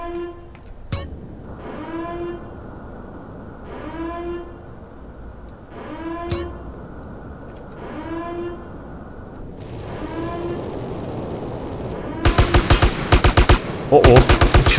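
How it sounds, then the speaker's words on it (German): Automatic gunfire erupts in GTA San Andreas as soldiers open fire on a jetpack-wearing player: rapid loud bursts near the end, following a stretch of repeated rising and falling alarm-like tones. "Oh oh, jetzt schießen dann auf uns."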